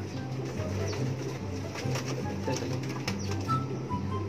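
Pigeons or doves giving soft, low repeated coos, close by, with faint rustling and movement around them and no talking.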